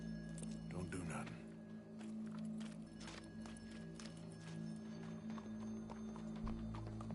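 Horse hooves clip-clop steadily in a PS4 video game scene, layered under game music and other character sounds, with talk heard alongside.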